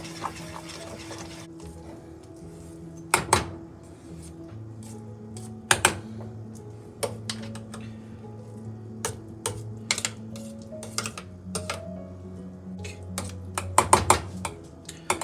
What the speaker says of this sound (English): Just keep stirring and the sugar all melt